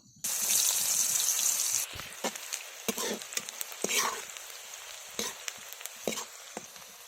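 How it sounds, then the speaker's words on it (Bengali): Onions frying in oil, already browned, give a loud burst of sizzle at first, then quieter frying broken by scattered clatters and stirring sounds in a village-style kitchen. "পেঁয়াজ লাল লাল করে ভেজে নিয়েছি, তুলে নেব।"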